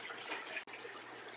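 Water refilling a turtle tank pours in a steady, close broadband wash, briefly cut off by a sharp gap near the middle before the rushing flow resumes at the same level.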